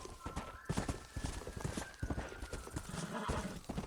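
Horse hooves clip-clopping in the video game Red Dead Redemption, a quick, irregular run of close hoofbeats that continues throughout, with faint ambient game sound behind.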